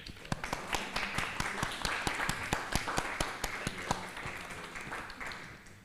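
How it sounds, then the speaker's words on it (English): A round of applause from an audience at a literary talk, with distinct individual claps in a fairly quick, uneven rhythm from a small group, close and fading slightly toward the end. "let's just give a big round of applause"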